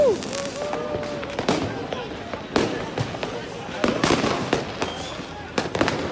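Fireworks crackle and pop at a distance on New Year's Eve in Hamburg, scattered bangs and sharp reports going off irregularly over a steady outdoor rumble.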